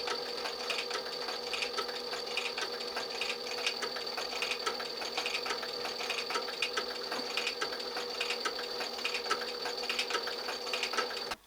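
Sewing machine stitching a decorative leather inlay, a steady fast mechanical whir and needle chatter running continuously and evenly for the whole stretch, close and fairly loud, with no talking.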